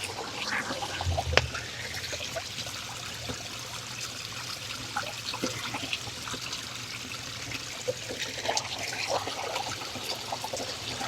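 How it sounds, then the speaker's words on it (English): A potted Sarracenia pitcher plant is set afloat in a garden pond: a dull splash and knock near the start, then a soft, steady trickle and lapping of water close by, with no speech. "Now, all I have to do is to let it float in the pond."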